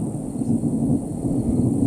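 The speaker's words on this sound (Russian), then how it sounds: "Молния и гром." Low rolling thunder from an approaching thunderstorm, a steady deep rumble lasting the whole stretch, loud and continuous with no voices.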